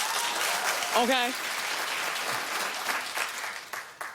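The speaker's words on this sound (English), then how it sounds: "Clap if you remember Forum magazine." Studio audience clapping on a daytime television talk show, a steady wash of applause from a nearby crowd with a brief spoken word and voices over it.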